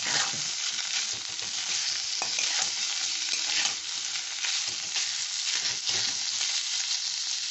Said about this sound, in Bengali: এখন আমি এই শেডের চিকেনটা দিয়ে দিচ্ছি। কম মানে খুব লো টু মিডিয়াম হিটে করছি আমি।